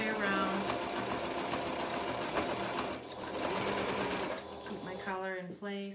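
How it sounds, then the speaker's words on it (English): A sewing machine runs a stretch stitch around a knit collar in a steady, fast whirring hum, slowing at the end while a voice talks over it. "So I'm just going to use this stretch stitch all the way around."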